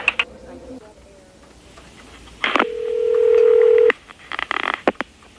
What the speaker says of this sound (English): Chuck gave Crystal the correct phone number